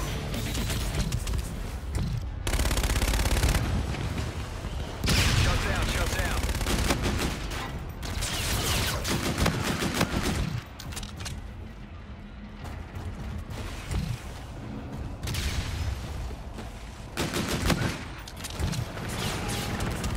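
Gunfire in Call of Duty: Infinite Warfare, loud bursts of automatic weapons fire and heavy shots in repeated clusters over a dense battle din, with game voices speaking in the mix.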